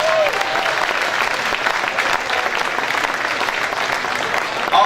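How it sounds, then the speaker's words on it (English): An audience at a motorsports expo pit challenge gives a sustained round of applause, dense steady clapping with a few faint whistles. "let's give all these guys that participated a huge round of applause."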